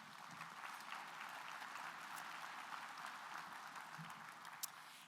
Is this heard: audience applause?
yes